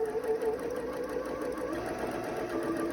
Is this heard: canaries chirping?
no